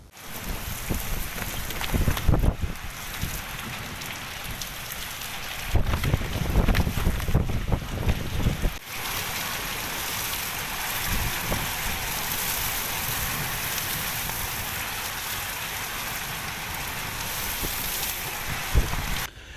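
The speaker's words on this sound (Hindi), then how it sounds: "आसमान में तेज आंधी के साथ बरसात और जोरदार ओले गिरे" A strong storm with wind, rain and hail sweeps over the village of Ghangu in Churu, roaring loudly and buffeting the microphone in heavy, uneven gusts, with no voices.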